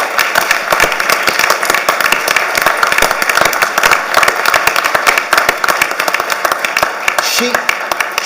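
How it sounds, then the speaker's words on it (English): Sustained applause at a university board of trustees meeting for an honoree named a distinguished professor, brisk crowded clapping holding steady and fairly loud throughout, with a voice briefly heard near the end. "So I ask that everybody give a strong round of applause"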